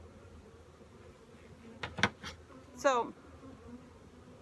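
Honey bees buzz around hives that are being combined after bear damage. Faint, brief buzzing passes sound close by against a quiet outdoor background, and a single short spoken word briefly overlaps them.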